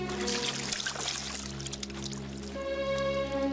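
Water pours out in a continuous splashing stream, steady and close, over a low sustained musical drone from a 1993 animated telling of the Old Testament story of Elijah.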